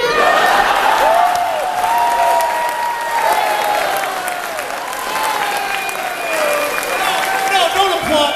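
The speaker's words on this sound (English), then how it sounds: "No, don't applaud that." Audience applause with some cheering at a comedy-music set at Nerdtacular 2012, steady and full for several seconds, with voices talking and shouting over the clapping.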